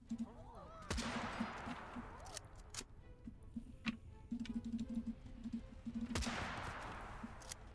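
Gunfire in the video game Totally Accurate Battle Simulator comes as scattered sharp shots and short rattling bursts, with a few louder close cracks. Faint speech sits underneath.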